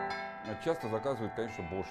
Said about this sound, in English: Every bila generates 4 to 5 different sounds, like normal bells.